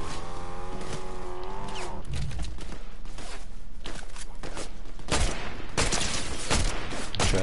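Gunfire in the video game Fortnite plays as sharp cracks and dense volleys over steady game noise, with several loud bursts late on.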